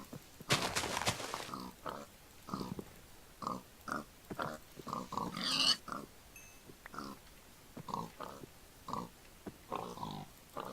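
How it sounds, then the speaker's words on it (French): Pigs in the Minecraft video game oink and grunt in a long run of short, repeated calls with a few brief louder noises mixed in, no talking. "Je veux des cochons."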